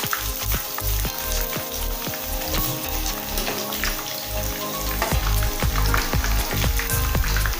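Chicken fries in hot oil for a Ghanaian jollof meal, a dense, steady sizzle with crackling pops throughout, close and fairly loud with no talking.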